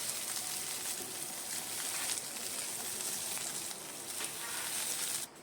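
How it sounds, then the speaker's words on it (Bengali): Small mola carplet fish deep-frying in oil until crisp, a continuous fine crackling sizzle at steady moderate loudness with no speech. "আমি কিছু মৌরলা মাছ ভেজে নিলাম কড়া করে একদম"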